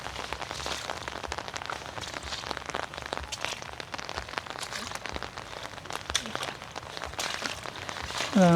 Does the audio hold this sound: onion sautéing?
no